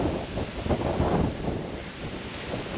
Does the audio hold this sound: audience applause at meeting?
no